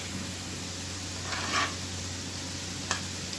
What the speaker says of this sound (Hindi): हम ज़्यादा इनको चम्मच के साथ नहीं हिलाएंगे, थोड़ा थोड़ा ऐसे ही मूव करते रहेंगे